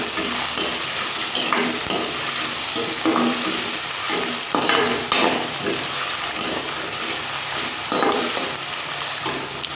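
Squeezed onions hissing loudly in hot oil for chicken biryani, a continuous bright sizzle with stirring scrapes and occasional clatters, close and steady without talk.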